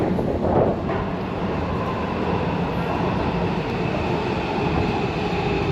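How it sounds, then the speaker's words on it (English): A passenger train rolls through a station with a loud, steady rumble and rushing roar of wheels and cars, heard close and continuous throughout, with no one speaking. "I don't know what train is that"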